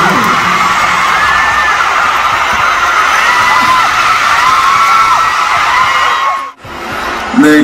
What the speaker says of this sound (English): you guys are shouting